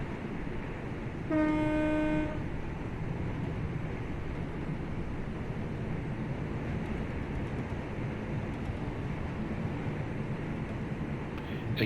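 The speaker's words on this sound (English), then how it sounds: "with that train going by that fast" A fast train rushes past in Train Sim World 3 on a snowy Birmingham line, a loud steady roar with a brief horn blast near the start, no talking.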